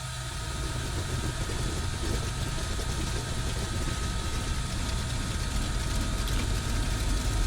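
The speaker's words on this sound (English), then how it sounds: "turn the starter on. And as the motor kind of catches" Radial engine of the Milviz FG-1D Corsair in Microsoft Flight Simulator runs with a continuous loud, rough low drone after starting, steady throughout with no voices.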